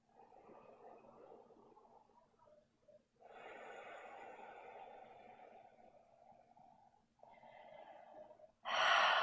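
Deep, slow breathing during a restorative yoga pose: long, airy inhales and exhales in separate waves, closing with a sharper, louder breath at the end.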